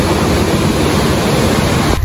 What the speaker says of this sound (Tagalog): yung agos ng ilog